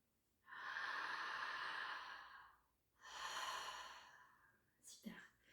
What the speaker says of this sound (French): la plus grande inspiration possible